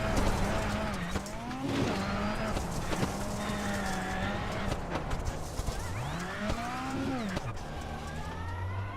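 Race car heard from onboard during a lap of a race broadcast, the engine note rising and falling steadily through shifts and corners, loud and continuous for the whole stretch.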